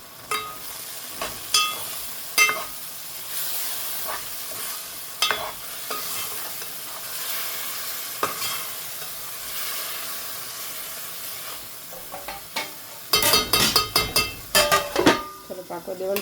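Hilsa fish curry being stirred and mixed in a pan, a soft continuous sizzle broken by repeated spoon scrapes and taps against the pan, growing busier and louder toward the end.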